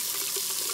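Water running steadily into a kitchen sink being flushed after a cordless drain auger was run down the clogged drain, a constant close hiss of flowing water with no voices.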